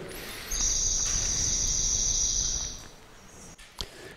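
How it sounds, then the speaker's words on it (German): A recorded song of a normally raised swamp sparrow plays: a single sustained, rapid high-pitched trill lasting about two seconds over a hissy background, followed by faint room noise. "das ist jetzt eine Sumpfammer, die praktisch normal aufwächst."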